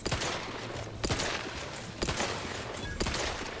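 Repeated bursts of bullet fire from the Crabble bullet core weapon in The Outer Worlds 2, sharp shots recurring about once a second over steady game background noise, loud and close.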